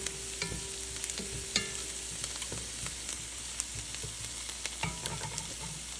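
Garlic sizzles steadily in a frying pan, a soft continuous crackle and hiss with occasional light scrapes of a stirring utensil, close and quiet.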